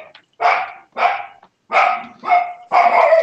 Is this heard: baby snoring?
no